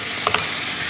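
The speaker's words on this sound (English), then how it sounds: "Sizzling away, little seasoning," Tomato pasta sauce made with cherry tomatoes sizzles and spits in a hot pan, a steady, dense frying hiss with a couple of brief stirring clicks near the start, close and alone.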